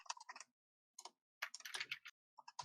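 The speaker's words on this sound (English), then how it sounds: "As you can also hear by the furious typing, it is certainly going well." Bursts of rapid computer keyboard typing, close and fairly quiet, coming in quick furious clusters separated by short pauses.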